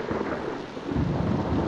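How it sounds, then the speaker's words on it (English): A loud, rumbling thunderclap rolls through the horror video game Luto, a dense, broad crash that swells again toward the end of its short span without easing off. "Your name's Thor now, off of that clandestine thunderclap."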